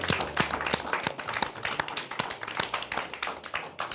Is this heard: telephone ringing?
no